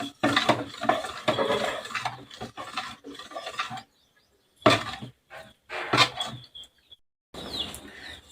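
A spoon stirring rice papad batter in a metal pot, with scraping and clinking strokes in uneven bursts separated by short pauses, heard close and fairly quiet.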